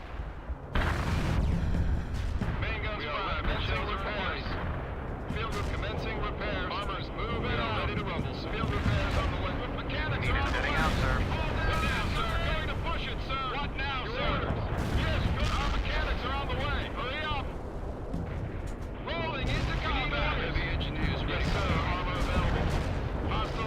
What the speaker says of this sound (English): let's see what we can do about presumably laser guided bombs